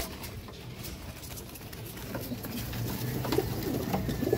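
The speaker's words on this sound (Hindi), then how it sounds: "और चैंपियन कबूतर है माशाल्लाह" Imamdeen breed pigeons cooing in a loft, soft low coos rising through the second half over steady rooftop background noise and faint fluttering, no talking.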